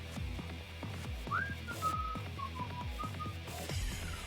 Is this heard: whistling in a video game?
yes